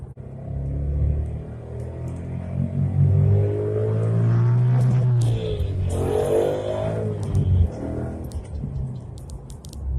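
A 2014 Ford Mustang GT with a transmission lockout problem accelerates hard through a pull, its engine note climbing loudly and falling back through shifts, heard from inside the car without talk.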